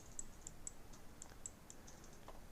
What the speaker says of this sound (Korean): 여기서 스페이스바 누르면 완성됩니다